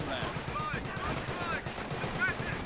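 Rapid machine-gun and rifle fire in the World War II strategy game Company of Heroes 2, continuous bursts of shots filling the whole stretch, with a commentator's voice faintly under it.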